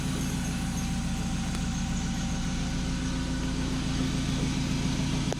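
A remapped car with an aftermarket exhaust runs in a loud, steady, close engine drone with a constant low rumble, swelling only slightly near the end, and no talking.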